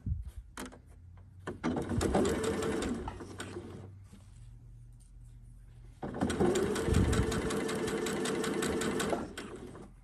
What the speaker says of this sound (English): Make sure my needle is centered, and it is, and I'm ready to start sewing.